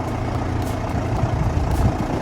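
A London TX4 taxi with a Chrysler engine idles after a cold start, a steady, close, rough diesel rumble that is loud and even throughout, with no speech.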